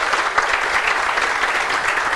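A studio audience on a music talk show applauds for a performer of xote, maracatu and baião: a brisk, even wash of many hands clapping, moderately loud and sustained, with no voices over it.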